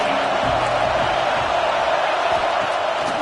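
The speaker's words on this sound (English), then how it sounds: "Decibels rising as the crowd gets behind this defense on 3rd down." Football stadium crowd roaring steadily as the home fans get behind the defense on third down, a dense continuous wall of cheering with no break across the clip.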